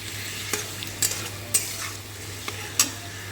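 Garlic paste fries in a pan for a homemade mushroom dish, stirred with a utensil that gives several crisp scrapes and clinks against the metal over a quiet sizzle.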